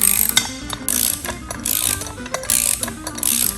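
A ratchet tightens a bolt on a circus beam clamp, giving rapid close clicking in repeated strokes with brief pauses between them, loud and without talking.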